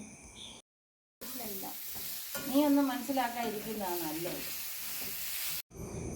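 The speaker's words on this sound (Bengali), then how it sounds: "মাছগুলোকে ওই পেঁয়াজের সাথে ভাজতে হবে" Fish fries with onions in a pan, a soft sizzle with stirring scrapes and clatter between brief silent gaps, alongside a tonal melodic sound in the middle.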